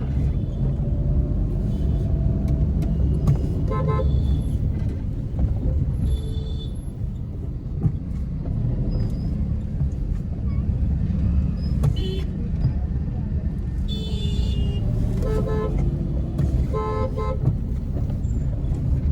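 A Maruti Alto LXI threads through dense traffic, its small engine humming under a steady road rumble while nearby horns toot repeatedly in short bursts; someone talks throughout.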